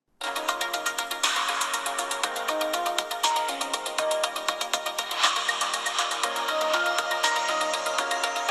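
A ringtone melody plays through the loudspeakers of a Xiaomi 12S Ultra phone, loud and continuous with repeating bright notes and a steady beat, filling the clip with no talking.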